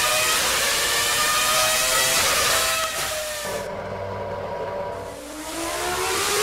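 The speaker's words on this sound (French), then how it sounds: "Une Ferrari, même une F1, ouais. Mais la F1, elle roule vraiment" A Formula 1 car driven in Garry's Mod, its engine a steady, loud, high-pitched whine throughout, dipping briefly in the middle before rising again.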